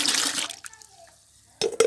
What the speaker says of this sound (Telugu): ఈ బియ్యం కడిగిన నీళ్ళు కూడా యాడ్ చేసుకుంటున్నాను